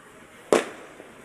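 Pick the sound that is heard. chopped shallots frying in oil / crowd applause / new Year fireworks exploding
new Year fireworks exploding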